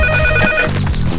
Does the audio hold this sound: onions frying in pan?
no